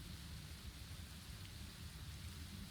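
Heavy rain pours down in a dense, continuous hiss with a low rumble of thunder underneath, steady and fairly faint throughout with no one speaking.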